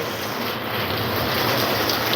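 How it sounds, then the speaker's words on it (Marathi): Heavy rain pours steadily in Latur during a storm, a dense continuous hiss close to the microphone with no thunder standing out and no voices. "तिकडं पाऊस चालू आहे इजाचा कडकडाट आहे"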